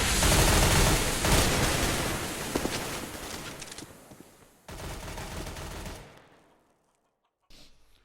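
Gunfire in a Counter-Strike match on the Inferno map at a LAN final, loud rapid rifle and pistol shots in dense bursts that thin out and stop, then a brief last burst after silence.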